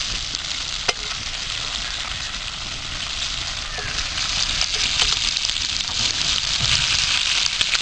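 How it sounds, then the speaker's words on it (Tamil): Fresh fish frying over a fire at Mayanur: a loud, continuous close sizzle with bubbling oil and occasional sharp crackles and pops, no talk. "இப்போ மாயனூரில் ஃப்ரெஷ்ஷாக மீன் வறுத்துக்கிட்டு இருக்கோம்"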